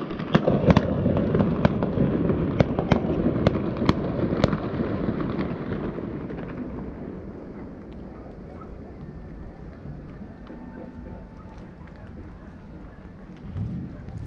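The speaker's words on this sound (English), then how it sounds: "Fireworks lighting up the sky tonight." Sharp fireworks bangs pop in quick succession over wind noise, then fade into a distant low rumble and quiet outdoor ambience.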